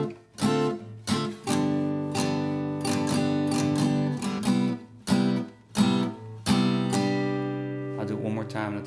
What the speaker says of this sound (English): the next example is what's considered a 2-5-1 progression